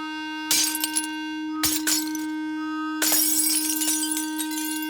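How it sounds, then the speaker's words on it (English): A delicate wine glass shattering from loud sound vibrations: a steady loud tone holds throughout while bursts of breaking glass crash in, first two short shatters, then a longer spray of tinkling shards. "The vibrations were so strong that the glass literally shook itself to pieces."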